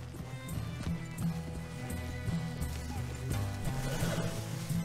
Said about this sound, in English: This horse looks cool.